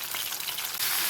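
Chicken pieces for chilli chicken frying in a pan with a steady, close, bright sizzle and hiss, growing slightly louder near the end, with no talking.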